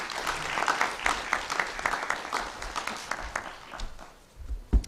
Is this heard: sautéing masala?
no